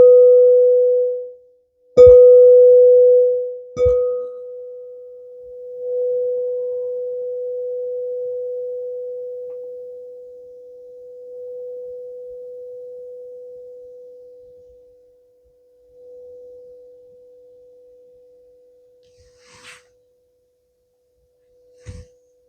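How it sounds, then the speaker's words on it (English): A sound bowl is struck a few times at the close of a group healing session, each strike ringing into a long, pure sustained tone that fades slowly into near silence, with faint breaths toward the end. "Again, using the sound bowl."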